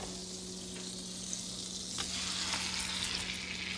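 Steak browning in melted butter in a hot pan, a steady close hiss of frying with a few faint clicks and shifts partway through, continuous and moderately quiet.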